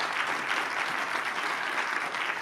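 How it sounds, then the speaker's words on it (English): A big round of applause for a panel at a World Economic Forum session on climate, a dense, even wash of clapping from a large audience, sustained and fairly loud with no talk over it. "Please join me in a big round of applause for a very inspiring panel."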